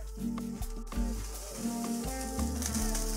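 Chicken pieces sizzle on a hot kamado grill, a steady crackling hiss close by, with a few soft knocks and clunks over a low background hum.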